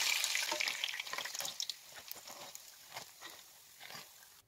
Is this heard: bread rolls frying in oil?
yes